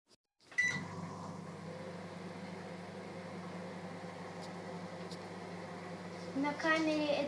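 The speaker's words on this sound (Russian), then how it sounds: "я сейчас поставлю его в микроволновку" Microwave oven heating a bar of soap, a steady low electrical hum with a faint whirring drone that runs continuously after a click at the start, rising slightly in noise near the end.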